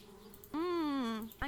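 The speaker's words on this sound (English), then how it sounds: "Darn bees, trying to move into our treehouse." Bees buzz in the video game Anna's Quest, a single close, steady drone lasting under a second that swells in and cuts off, with another brief burst at the end.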